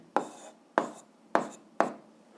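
A pen writing an answer on paper, four separate short scratchy strokes at an even pace, close and fairly faint, with no talking.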